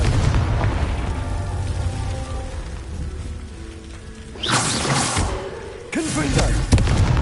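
Confringo fire spell explosions in Hogwarts Legacy: two loud, sudden blasts with roaring broadband bursts, the second followed by a crackling tail, over continuous game ambience and music, with a voice calling spell names.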